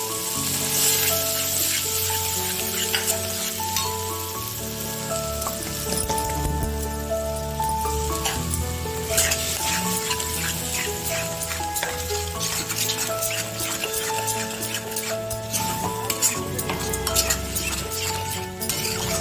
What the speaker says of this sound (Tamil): முட்டை உடைச்சு ஊற்றணும்